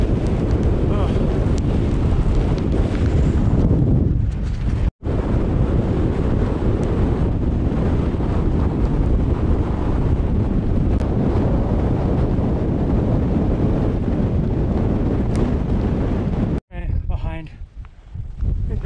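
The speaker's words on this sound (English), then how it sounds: "So windy." Strong wind buffets the microphone on an exposed coastal hill during a long coast-to-coast walk, a loud, continuous roar that barely drops for nearly the whole stretch, with brief gaps and muffled rustling near the end.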